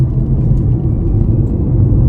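A 2023 Kia Niro EV pulling away hard from a standstill with traction control off, a loud, steady low rumble and whir of road and drivetrain noise heard from inside the car, with no voices.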